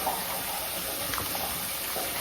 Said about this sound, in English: So now I'm going to add this starchy pasta water to give it that additional